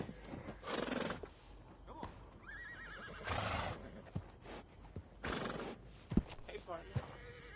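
A horse in Red Dead Redemption 2 whinnies twice with a warbling neigh, amid clip-clop hooves, snorts and scattered game sounds, with a voice talking in between.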